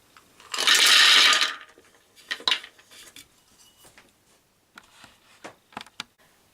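A loud burst of noisy chopping of apples near the start, followed by scattered sharp knocks and clinks of a blade and utensils, with no talking.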